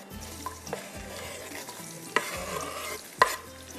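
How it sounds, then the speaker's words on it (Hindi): Onions browning in a pan for a karahi masala, with a steady soft sizzle and occasional sharp clinks and scrapes of a utensil stirring against the metal pan. "जब तक ये प्याज हमारा अच्छे से ब्राउन हो रहा है"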